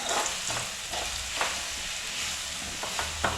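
Mustard seeds and small shallots fry in oil in a clay pan for Kerala-style jackfruit leaf thoran, making a continuous close sizzle with occasional sharp scrapes and clinks as a spoon stirs.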